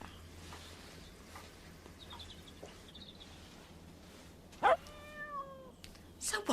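A cat lets out a short, clear meow near the end of a quiet outdoor stretch, followed by a few fainter sounds and soft rustling, with a little background talk.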